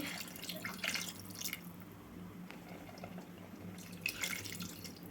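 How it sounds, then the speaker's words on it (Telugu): Water poured from a large glass into a pan of potato curry makes soft splashing and trickling, strongest at the start and again near the end, quiet and close with no talking. "వాటర్ అయితే పోస్తున్నాను అండి"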